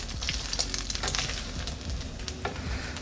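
Pancake batter sizzles and fries in a hot pan for a breakfast plate, a steady close crackle with small pops and no talking.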